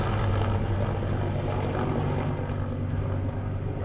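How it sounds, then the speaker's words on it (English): A steady, loud rotor drone as a helicopter passes low overhead and holds constant throughout, with no talk over it. "helicopters flying over the top of us."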